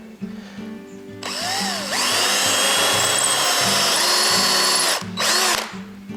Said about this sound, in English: I'm going to drill a small hole here